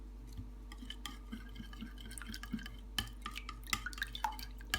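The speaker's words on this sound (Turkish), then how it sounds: "Hepsini karıştıralım." A stale bread pastry mixture with chili flakes, parsley and salt being stirred in a bowl, soft wet scrapes and light clinks of a utensil, quiet and close over a low hum.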